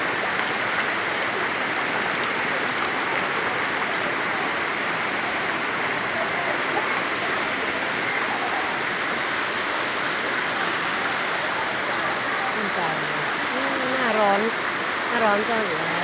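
Erawan waterfall in Thailand pours steadily in the dry season, a continuous broadband rush of falling water heard up close throughout, with people talking faintly underneath.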